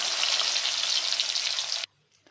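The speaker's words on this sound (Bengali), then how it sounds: "তেল গরম হয়ে গেছে, কাজু বাদামগুলো ভেজে নেব।" Cashew nuts fry in hot mustard oil with a spoon of ghee, giving a steady, close hiss and crackle for nearly two seconds. The sizzle then cuts off abruptly, leaving a few faint clinks.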